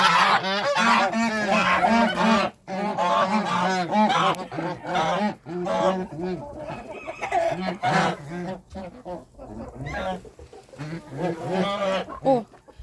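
A flock of geese honks loudly and continuously, overlapping nasal calls close by, with a few brief pauses and occasional human voices mixed in.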